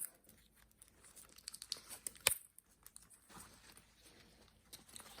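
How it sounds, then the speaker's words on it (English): Paper wrapping torn off a Lululemon Everywhere belt bag, heard as close crinkling and ripping bursts with one sharp tear in the middle, then softer rustling. "So let me take the paper off."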